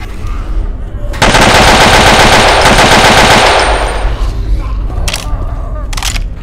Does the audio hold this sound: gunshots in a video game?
yes